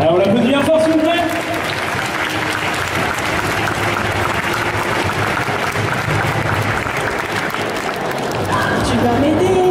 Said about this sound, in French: Alors on l'applaudit bien fort, s'il vous plaît.